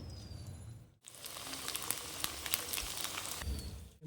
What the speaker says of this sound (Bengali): আলুগুলোকে পুরো ভাজবো তো এবার আমি আলুগুলোকে দিয়ে দেবো